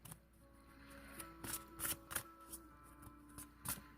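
A deck of tarot cards is shuffled close by in a quiet room: a run of soft riffles and several crisp flicking bursts, with faint background hum and no talk.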